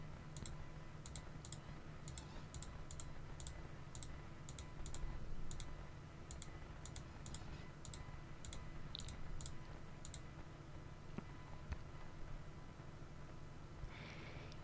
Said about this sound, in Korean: 그 다음 키패드를 사용하셔서 문장을 적어주세요.